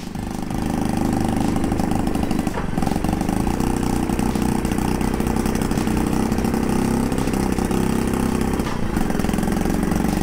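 A Honda Monkey 50cc motorcycle engine runs close and steady, a continuous buzzing putter with a brief dip partway through, and no talking over it.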